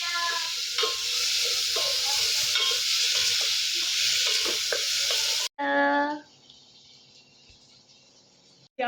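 Chopped tomato sautés in a hot pan for a whole-masoor lentil dish and is stirred, with loud, steady sizzling for about five seconds. Then it cuts off abruptly into a brief tonal sound and a much quieter tail.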